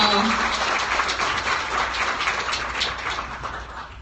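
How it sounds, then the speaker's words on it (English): A crowd at a wrap party claps steadily for Callie, a dense, even round of applause lasting several seconds and fading slightly near the end, with scattered voices mixed in. "Big round of applause for Callie, y'all."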